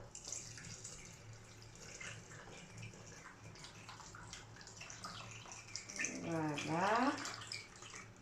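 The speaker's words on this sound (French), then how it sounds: "on va ajouter l'équivalent de 3 verres d'eau" Lukewarm water pours into a bottle for crêpe batter, a faint running trickle that rises to a louder gurgling fill near the end, with a brief spoken word.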